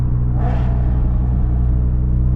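A Toyota GR Corolla on Eibach springs drives a canyon road, its engine giving a loud, steady close rumble with a brief rising blip of revs as it downshifts, no talking.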